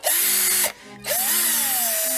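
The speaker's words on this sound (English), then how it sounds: "I gotta grab my power drill here." A cordless power drill drives a screw in two loud, close bursts of whirring motor whine separated by a brief stop, the pitch climbing as it spins up and then sagging slightly.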